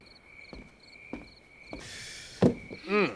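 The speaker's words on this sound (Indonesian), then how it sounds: "Sambil bersantai dan dengerin suara jangkrik" Crickets chirp in short, evenly spaced trills at a faint, steady level in a forest setting, with a few soft rustling thumps and brief noises near the end.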